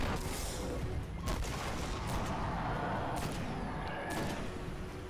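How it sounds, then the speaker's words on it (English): Rocket launches and heavy explosive blasts hit a boss in the Destiny Shrine of Oryx heroic strike, a few booming bursts over a dense, steady roar of game noise with no talk. "So I'm going to throw a few rockets at him as soon as he's ready."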